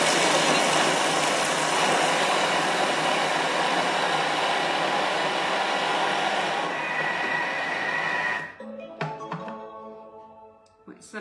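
A Thermomix TM6 grinds Oreo cookies into powder with a loud, steady whirring roar that cuts off near the end into scattered clicks and rattles.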